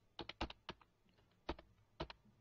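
Quick keystrokes on a computer keyboard in short irregular bursts, close and clear, with brief pauses between clusters of taps.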